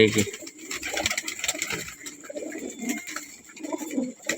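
Pigeons kept for sale coo softly nearby in a few low, rolling phrases amid faint background noise.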